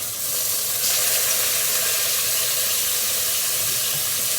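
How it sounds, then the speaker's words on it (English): Three marinated chicken breasts, about two pounds, sear in a hot pan with a loud, continuous sizzle and crackling hiss that swells a moment after they hit the pan and stays strong throughout, with no one talking. "All I need to do is hear that beautiful sizzling sound"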